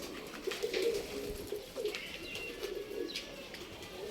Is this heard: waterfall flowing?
no